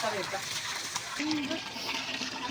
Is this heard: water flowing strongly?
yes